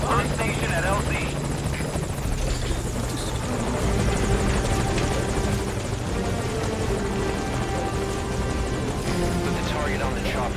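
A helicopter hovers at a landing zone in Metal Gear Solid V, its loud, continuous rotor thrum and engine whine filling the whole stretch while voices talk over it.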